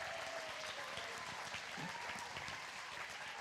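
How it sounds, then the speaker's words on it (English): Steady round of audience applause at an evening charity gala stage event, continuous clapping from many hands throughout, fairly distant and even, with no voices standing out. "Let's give one last round of applause for Faye and all of our participants in the raffle"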